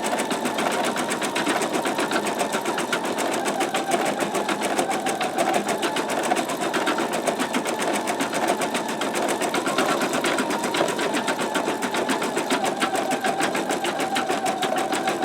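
An embroidery machine with a magnetic hoop stitches out a base knockdown stitch, its needle chattering in a fast, even rhythm that stays loud and constant throughout with no talking.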